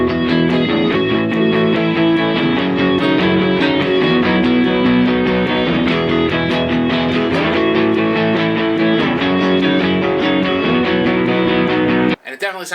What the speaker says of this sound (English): It definitely sounds more like a synthesized keyboard than a guitar.